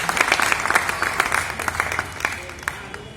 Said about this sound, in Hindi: एक बार तालियों से इनका स्वागत कर लीजिए।